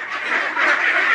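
A dense, continuous chorus of young ducklings quacking and peeping together, close and steady, from a flock of about 1,500 ducklings around 36 days old raised in confinement.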